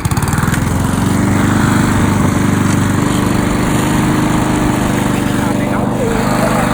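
A gasoline grass cutter engine runs loud and close, droning steadily with a fast buzzing rhythm the whole time, while a voice talks faintly in the background.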